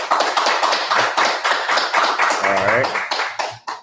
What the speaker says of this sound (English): Give him a round of applause real quick.